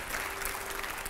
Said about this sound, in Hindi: जोरदार तालियों इस जवाब के लिए